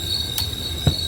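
Train wheels squeal in two brief bursts, one faint and one louder and lower near the end, over a steady rail hum and a thin high tone as a train nears Ernakulam Junction in Kerala.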